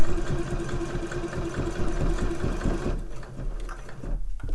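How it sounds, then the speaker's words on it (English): A sewing machine runs steadily, stitching binding onto handmade slipper boots, with a close, continuous mechanical whir and rapid needle rhythm that slows and stops near the end, with no talk. "you could attach the binding on the other way round and then stitch in the ditch"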